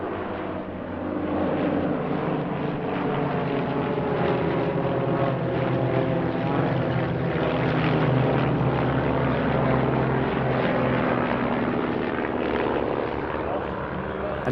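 Display team aircraft flying the Twizzles manoeuvre at the Midlands Air Festival airshow, a loud, steady propeller-engine drone that swells slightly and holds for the whole stretch.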